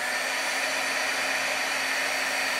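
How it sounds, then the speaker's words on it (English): A craft heat tool blows hot air in a steady, loud, close whir like a hair dryer, held at a constant pitch with no voices. "I'm going to hold my heat tool away from the project until my heat tool has completely reached its max heat"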